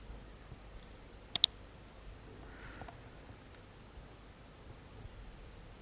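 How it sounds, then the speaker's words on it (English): A quick double click of a computer mouse, sharp and close, followed by a couple of fainter ticks over a quiet hiss. "Let me click."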